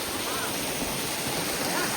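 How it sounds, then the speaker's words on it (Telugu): Waterfalls at Sakleshpur in Karnataka, heard as a steady broadband rush of falling water mixed with wind, continuous and fairly loud with no pauses. "అదిగోండి వాటర్ ఫాల్స్. ఇవన్నీ వాటర్ ఫాల్స్ అనమాట."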